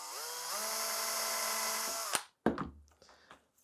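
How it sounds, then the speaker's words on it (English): Power drill boring a hole into a failed 3D print, a loud steady whine for about two seconds that cuts off, followed by a few short bursts and clunks as the drill is lifted and handled. "I'm going to drill a hole in it so that I can put the wire in there"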